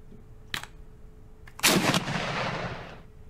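A tank cannon firing an armor-piercing round in a tank simulator video game: a short sharp crack followed by a heavy booming blast that rolls and fades over about a second and a half.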